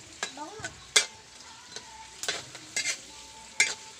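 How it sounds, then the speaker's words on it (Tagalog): Bagoong (balaw) sautéing in a pot over a provincial wood-fired stove in Bicol, a faint sizzle under repeated sharp scrapes and clinks of a stirring utensil at irregular intervals. "Gisa lang natin yan mga kabudol."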